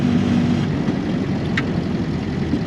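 An Austin 7 car fitted with an SU carburettor idles and turns around in first gear, its low engine drone steady and close throughout, with no voices.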